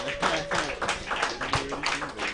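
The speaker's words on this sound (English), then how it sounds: "So give a round of applause for your 2019 champions" Applause for the 2019 esports state champions, a short burst of close, steady clapping from a modest crowd, with a voice faintly underneath.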